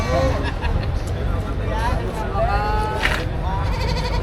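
Goats, a pair of males, bleat at a busy livestock market amid steady crowd chatter and passing traffic, their wavering calls rising several times over the hubbub.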